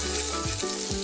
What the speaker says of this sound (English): and we're gonna blister the tomatoes.